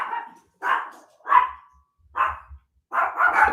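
Several dogs bark indoors in bursts of five or six sharp, fairly loud barks with short gaps, stirred up after something fell in the house, with low thumps underneath.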